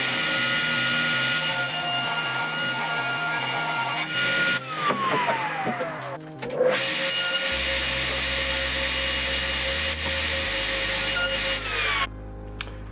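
A power saw cuts through particle board in a workshop, its whine running continuously with shifting pitch as the blade bites and the motor winds down and restarts, loud and close without speech.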